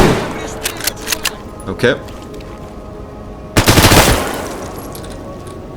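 Rifle gunfire in the video game S.T.A.L.K.E.R.: a few scattered single shots early, then a loud dense burst of rapid fire near the end, with brief talk in the clip.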